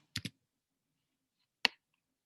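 Three sharp key clicks on a keyboard in near silence, a quick double tap followed by a single click about a second and a half later.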